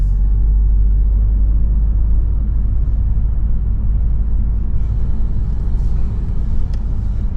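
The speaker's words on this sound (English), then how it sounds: "Engine just kicked on" A hybrid car's petrol engine hums as it kicks on while driving at about 10 mph, a steady low rumble with road noise throughout, constant and close with no talking.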